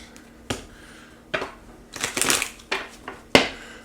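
Several quick riffling bursts of cards being shuffled, close up, separated by short pauses, with one longer flurry in the middle.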